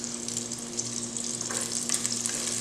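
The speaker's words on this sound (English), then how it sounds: "peppers and the onions are going in." Peppers and onions go into hot oil, sizzling in a continuous close crackle under a faint steady hum, with some louder bursts partway through and no speech.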